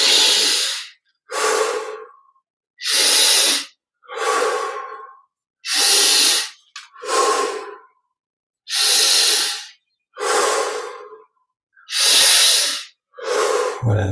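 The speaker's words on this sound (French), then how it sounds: "20 respirations profondes, inspire par le nez, expire par la bouche." Deep rhythmic breaths during a guided yoga energy-recharge meditation, drawn in through the nose and pushed out through the mouth, about ten loud, close breath bursts separated by short silences, with no talking.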